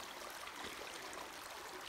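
Water runs steadily in a stream along the West Fork Trail in Sedona, a continuous close, rushing wash with no other sounds.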